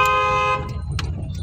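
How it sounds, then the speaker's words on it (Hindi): A loud, sustained car horn blares for about half a second over traffic rumble, followed by passing road noise. "लॉन्ग हॉर्न मार के निकाल लो"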